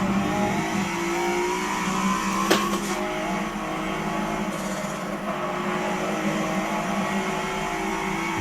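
A race car's engine roars and revs through corners in Forza Motorsport 7 simulation mode, rising and falling with gear changes and a brief tire squeal, continuous and up front with no talking.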